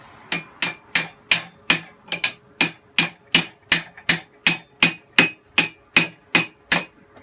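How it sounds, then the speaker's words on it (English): Hammer blows on a Ford Explorer 8.8 car axle being shortened, about twenty sharp metallic strikes in a steady, even rhythm, loud and close with no talking. "Grab a hammer here."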